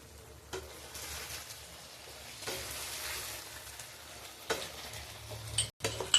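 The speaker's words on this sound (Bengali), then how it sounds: "হালকা হাতে সসটার সাথে মিক্স করে দিতে হবে।" Fried mushrooms are stirred into sauce in a pan for chilli mushroom, a soft continuous sizzle under gentle scraping strokes, with a few louder clatters near the end and no talking.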